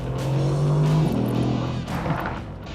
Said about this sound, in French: Il y a un échappement sport aussi, on l'entend, ça fait un bruit magnifique.